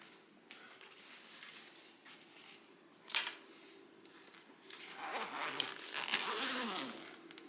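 A zipper on a Bagsmart rolling photography backpack being pulled open, a close, scratchy rasp that runs in short bursts with a sharp click partway through.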